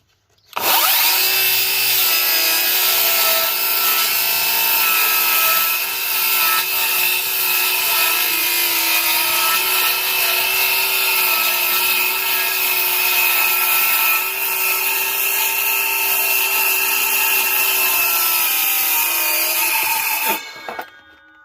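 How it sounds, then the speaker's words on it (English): A jigsaw cuts a round wooden piece in one long, loud, unbroken run of buzzing, rasping blade strokes close by, starting and stopping abruptly. "And I'll get my jigsaw here, and I'm going to cut it out."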